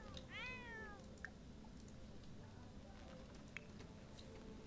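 Cat in The Sims 4 game, a single clear falling meow near the start over a quiet room-tone bed, followed by a few faint clicks.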